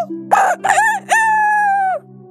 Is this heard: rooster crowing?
yes